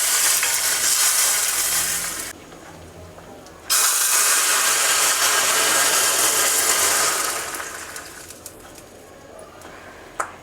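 Hot oggarane tempering is added to avarekalu (field bean) sambar and sizzles loudly in two long hissing bursts separated by a short lull, with the second burst tapering away into quieter crackles.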